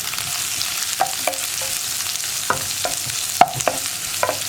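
Onion and green chili frying in a pan with garlic, a soft continuous sizzle broken by scattered sharp clinks and scrapes of a spatula stirring against the pan.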